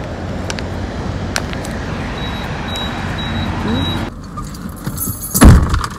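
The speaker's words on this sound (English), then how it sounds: "my keys just fell" Car keys drop and jangle inside a car during a road trip, a short metallic clatter near the end over steady engine and road hum, with a few faint clicks earlier.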